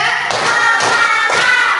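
A class of schoolchildren claps together in rhythm during a lesson, giving three loud, close bursts of many hands striking at once.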